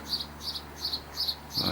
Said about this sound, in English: I can hear a couple of singing sparrows, so I'm confident they're alright.